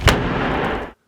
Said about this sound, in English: So a door can be slammed angrily,